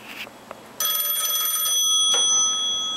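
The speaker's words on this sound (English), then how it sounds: "Sweetie, phone!" An old-fashioned telephone bell starts ringing after a short quiet moment, a loud, bright metallic trill that rattles on continuously for about two seconds and then trails off, with no one talking.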